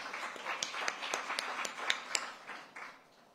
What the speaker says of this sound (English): She deserves a hand clap.